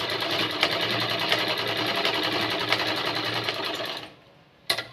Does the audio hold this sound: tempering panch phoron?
no